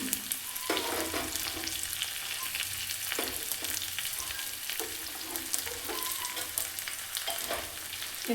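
Mustard seeds, cumin and crushed garlic crackle and sputter in hot oil, a dense, continuous close-up sizzle with small popping bursts throughout.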